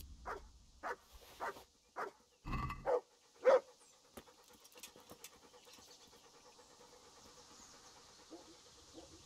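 Mutt the dog barks several times in short sharp yelps within the medieval game Kingdom Come: Deliverance, a few close barks early on and then fading into quiet ambient background.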